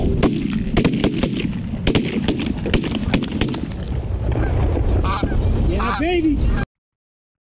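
Canada geese honk repeatedly during a Colorado waterfowl hunt, loud and close at first with sharp shots or bangs mixed in, then a few calls stand out over wind before the sound cuts off; someone speaks briefly.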